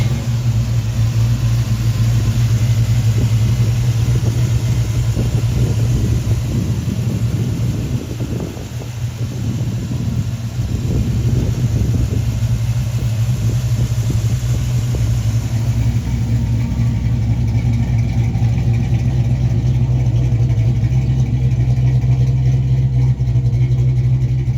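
1967 Pontiac GTO with a 400 engine and 5-speed running steadily, a deep continuous rumble close by with some wind noise mid-way, no talking.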